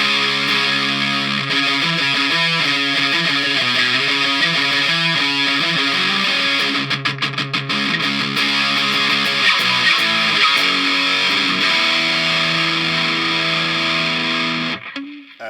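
Electric guitar through two stacked drive pedals, a thick, saturated distorted tone played as chords and riffs, loud and continuous, ending in a ringing fade.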